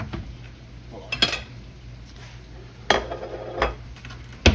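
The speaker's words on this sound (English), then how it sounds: "I'm mixing my baking soda and my cake flour together." Dry cake flour and baking soda being mixed in a kitchen bowl, with a few sharp clinks and scrapes of utensil against the bowl over a low steady background hum.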